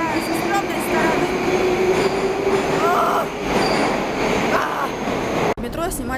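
A Moscow metro subway train roars along the track with a loud, continuous rumble, high wheel squeals rising over it, and a sharp jolt near the end.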